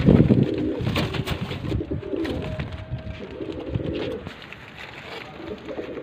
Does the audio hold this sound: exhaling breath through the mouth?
no